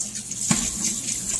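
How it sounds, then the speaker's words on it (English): Cold tap water running into a sink while beef marrow bones are rinsed for stock, a close, steady splashing stream with a brief heavier gush partway through. "Rinse in cold water."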